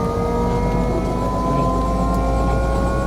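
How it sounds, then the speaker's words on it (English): Steady, loud helicopter engine drone with a constant mechanical whir, close and continuous throughout, heard from inside the helicopter in flight leaving Tasman Glacier, Mount Cook. "Flying in a helicopter."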